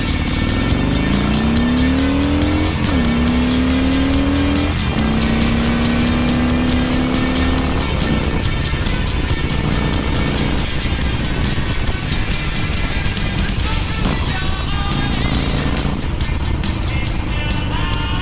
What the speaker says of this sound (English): Let's do a rolling 0 to 60 just to have a look at the acceleration on this.